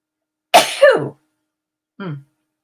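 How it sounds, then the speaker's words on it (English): A single close, forceful sneeze with a two-part burst, followed after a short pause by a brief, softer vocal sound. "I'm going to sneeze in a minute"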